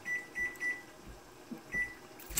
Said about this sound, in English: Set the timer for 20 minutes.